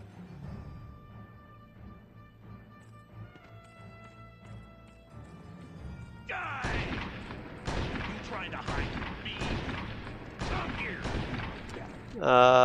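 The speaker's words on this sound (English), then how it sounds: "I'm just gonna go shoot him" Gunfire in the indie western video game Gun during a boss fight: a series of sharp, loud shots at a steady spacing over a game soundscape of music and ambience, followed by a sudden loud burst at the end.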